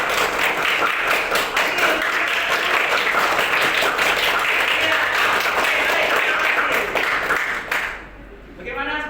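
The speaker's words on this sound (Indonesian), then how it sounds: "Berikan tepuk tangan pada diri kita sendiri dengan semangat." Classroom of students giving themselves an energetic round of applause, loud continuous clapping that fades out near the end, followed by a few faint voices.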